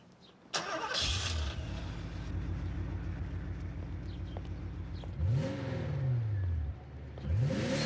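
A car door thuds, then a Porsche 928 engine cranks and catches into a steady idle, followed by several rising revs close by.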